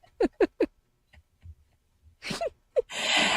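A few short breathy vocal sounds come first, then a single sharp sneeze bursts out close by near the end.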